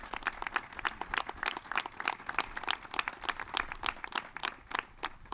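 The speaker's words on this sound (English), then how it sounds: "give them a round of applause" Audience at the Southern Tier Welcome Center applauding the labor workers who built it, a steady run of distinct, crisp claps from a modest crowd with no talking.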